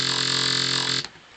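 Growl bass synth patch with a modulation oscillator on the main oscillator, a bright, buzzing sustained tone with wobbling harmonics for about a second, then an abrupt cutoff into near silence.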